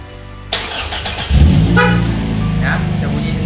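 A 2014 third-generation car with red candy paint and lambo doors, fitted with a push-button start stop system, cranks and fires up with a sudden burst, then settles into a steady near idle rumble.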